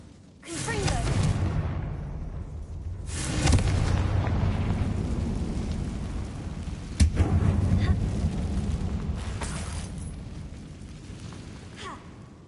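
A Confringo blasting spell from Hogwarts Legacy goes off in a dusty abandoned mine, giving several deep booming bursts with rumbling tails and a sharp crack near the middle over a steady low game ambience.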